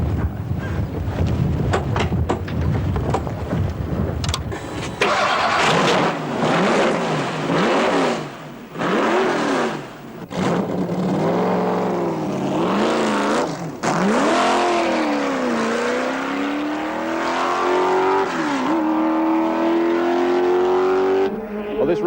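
A 1975 Tasman Series race car lapping at Sandown, its engine loud and close, revving hard through repeated gear changes with rising and falling pitch, then a long sustained high-revving pull, with wind buffeting the microphone.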